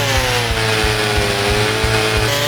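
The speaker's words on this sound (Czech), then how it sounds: "Mně se líbí i ten zvuk, a i vlastně když vidíte, jak to krásně točí, jo, ta motorová pila." A video-game chainsaw in a forestry simulator: a buzzing two-stroke engine drones at high revs with a rapid, rhythmic chugging pulse, loud and continuous throughout.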